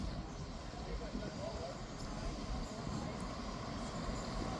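Scotrail passenger train arriving at Montrose station, a broad steady rumble of the train rolling in close by, with wheel and wind noise filling the whole clip.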